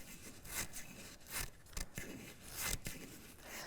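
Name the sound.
scissors cutting newspaper into fringe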